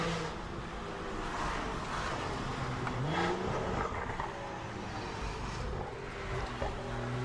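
BMW 540i engine revving hard on a wet road in the rain, a continuous loud roar with rising and falling pitch sweeps and steady road noise throughout.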